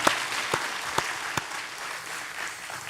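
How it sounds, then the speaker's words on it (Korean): Congregation applause during a Sunday worship service at a church in Daegu, a steady wash of clapping throughout with a few sharper claps standing out, no talking over it. "박수를 하나님께 드리겠습니다."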